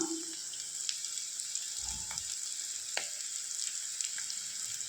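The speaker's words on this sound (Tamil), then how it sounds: "ஆனியனும் பச்சை மிளகாய் போட்டு வதக்கி எடுத்துக்கோங்க" Onions and green chillies sauté in a pan as a Tamil okra poriyal is made, giving a steady, soft hiss of frying. A few faint clinks and a brief low scrape sound near the middle.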